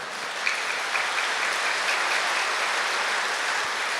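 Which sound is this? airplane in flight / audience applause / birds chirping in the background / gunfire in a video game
audience applause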